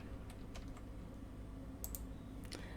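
Quiet, sparse keystrokes on a computer keyboard as a search is typed, a handful of light clicks scattered over a low background hum.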